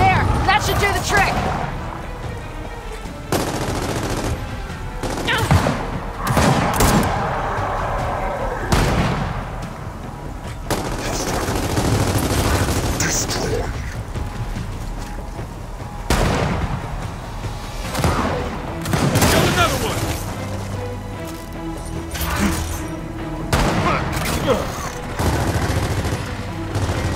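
Sniper and other gunfire in Gears of War 4, with heavy repeated shots, thuds and booms spread across a long battle, while voices talk over the fighting.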